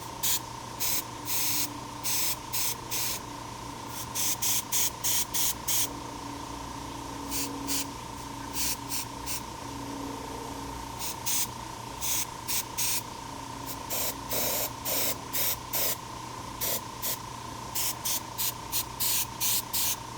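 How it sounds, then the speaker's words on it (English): Airbrush spraying paint onto a portrait in short, repeated bursts of airy hiss, starting and stopping irregularly over a constant faint background hum, close and fairly quiet. "And part of what's great about the airbrush is having some of that overspray."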